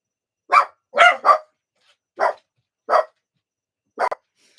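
Dogs newly settled into a relocated home bark loudly and close by, several sharp separate barks, one quick pair, spaced across a few seconds with quiet between.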